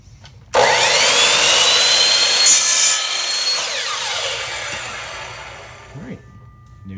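A power saw cuts through a wooden dowel for a homemade metal-detecting sand scoop, a loud steady whine that starts abruptly, holds for a few seconds, then tapers off as the cut finishes.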